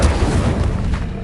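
Incendio fire spell cast in Hogwarts Legacy, a loud, deep booming burst of flame that roars steadily for a moment, dense and close.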